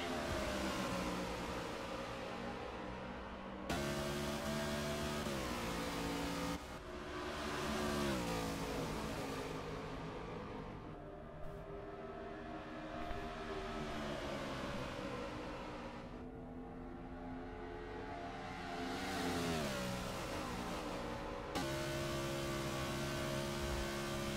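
Race cars at Daytona in a racing video game, engines whining and revving as they pass in long sweeping waves, pitch rising and falling, moderately quiet and continuous.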